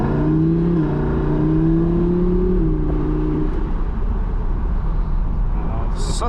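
A Lamborghini Huracan Performante engine revs and pulls hard, its rising tone stepping up through gears before fading into a steady, somewhat distant roar with wind-like noise.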